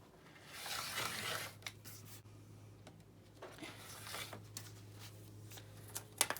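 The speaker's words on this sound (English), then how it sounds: "And I'll just keep going around and trim off all the edges." Fabric edges of a pillow being trimmed, heard as soft rasping cuts and rustling fabric in uneven strokes with brief pauses, close and fairly quiet, ending in a few sharper snips, with no voices.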